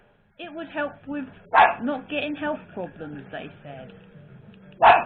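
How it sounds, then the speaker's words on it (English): A dog barks loudly nearby with two sharp barks spaced a few seconds apart, cutting through a person talking continuously during a Splatoon 3 gaming session. "Yeah, that's my dog again."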